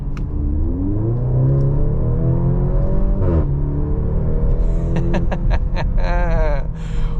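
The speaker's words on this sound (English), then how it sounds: "Wow, that was quite the gear change." 2023 Maserati Grecale SUV accelerating hard, its engine note climbing steadily in pitch, dropping abruptly at a gear change, then rising again with a sharp, buzzy rasp, loud and close from the cabin.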